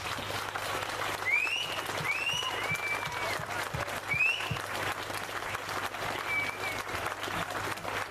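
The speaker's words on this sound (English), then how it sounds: "It's a well-deserved round of applause." A party audience gives a round of applause at a newspaper's 1000th edition celebration, with steady, dense clapping filling the room for several seconds and faint whistles and cheers rising above it.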